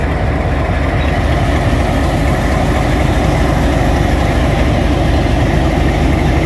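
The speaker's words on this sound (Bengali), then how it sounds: "ভারতের লোকোমোটিভ যেটা লাইট আসছিল এটা সমেত চলে যাচ্ছে ভারতের দিকে" An Indian diesel locomotive pulls away toward India with a loud, constant low rumble of engine and rolling stock that fills the whole stretch without a break.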